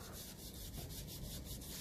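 A cloth wiping degreaser over an engine part of a 1954 Ferguson TEF 20 diesel tractor, a brief, close, quiet rubbing with a few rhythmic strokes and no voices.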